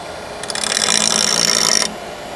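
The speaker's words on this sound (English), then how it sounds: "What I like to do is I like to grind this down so it's nice and smooth" A bench grinder working a lawn mower blade edge gives a steady bright grinding hiss lasting under two seconds, starting and stopping abruptly against a quiet room, close and fairly loud.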